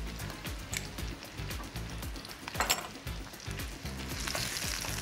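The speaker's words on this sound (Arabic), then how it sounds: "طب دلوقتي هنضيف الثوم، دول حوالي 6 فصوص ثوم مهروسين." About six mashed garlic cloves fry in a pan for an Egyptian pasta dish, giving a quiet sizzle with occasional clinks and scrapes of a utensil against the pan.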